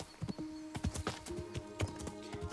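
Horse hooves clip-clop at a steady walking rhythm in the medieval game Kingdom Come: Deliverance, each strike crisp and fairly close, with faint game ambience beneath and no talk.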